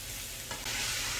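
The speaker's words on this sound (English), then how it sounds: "You continue to stir the mushroom until you achieve the required texture" Mushrooms stirred in a hot frying pan give off a steady, close sizzle, with a brief scrape of the utensil near the end.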